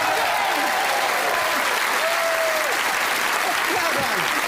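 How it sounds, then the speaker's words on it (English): Loud, continuous studio audience applause that includes a group of firefighters, a thick roar of clapping mixed with whoops and cheering voices rising and falling throughout. "Round of applause!"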